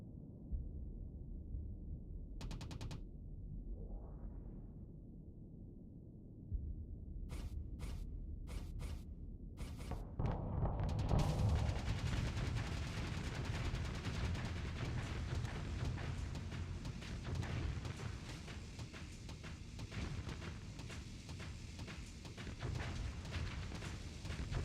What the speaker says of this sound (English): Used up all my missiles to shred them